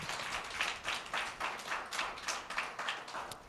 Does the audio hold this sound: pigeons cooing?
no